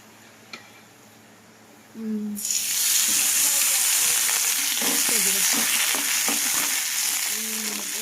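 Green chillies drop into hot oil in a home kitchen pan, setting off a loud, steady sizzle and crackle that runs on with faint stirring scrapes after a quiet start.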